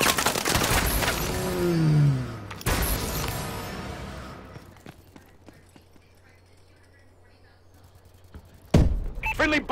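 Bursts of bombing-run explosions and gunfire in a first-person shooter video game, loud at the start, then a pause with a low hum and scattered thuds, ending with another sharp blast; voice lines can be heard.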